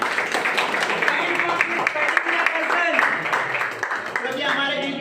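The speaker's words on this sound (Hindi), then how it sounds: "जोरदार ताली बजा दिया जाए" An audience claps for a company director at an office opening event, a dense patter of many hands over several seconds with speech mixed in.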